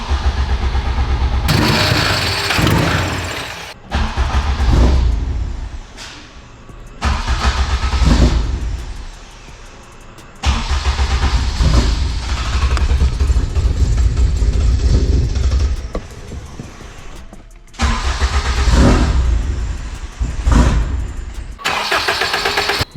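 An all-wheel-drive Honda Civic Type R with added intercooler piping runs and drives, its engine surging loudly in long revving bursts separated by short lifts and quieter gaps, close and without talk.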